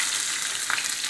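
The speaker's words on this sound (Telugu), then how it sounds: "ఇప్పుడు ఆయిల్ హీట్ ఎక్కింది, మనం జీలకర్ర ఫస్ట్ వేపేసుకుందాం," Cumin seeds crackle in hot oil for a beera kaya and sesame chutney, a steady soft sizzling hiss that stays even throughout with no voices.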